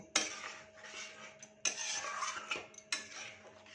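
Potatoes stirred with ghee in a metal pan, three sharp spoon clanks against the pan each followed by short bursts of scraping and gentle sizzle, up close with no talk.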